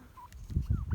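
Brief low clucking and gobbling poultry calls, close and somewhat faint, a few quick bursts in under a second.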